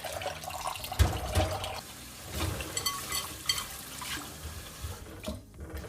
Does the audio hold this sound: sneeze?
no